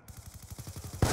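Rapid automatic gunfire in a video game, about a dozen evenly spaced shots in a fast rhythm, followed by a louder, broader blast at the end.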